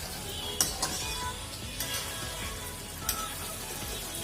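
Pork dry fry with spices stirred in a pan, giving a steady close sizzle with a few soft clinks and scrapes of the spoon throughout.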